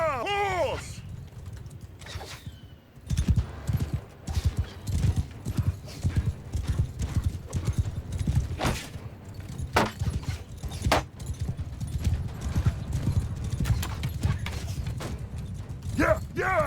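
Horses galloping across a battlefield in the video game Mount & Blade II Bannerlord, with dense rhythmic hoofbeats, occasional whinnies and metallic clinks, while a voice shouts commands throughout.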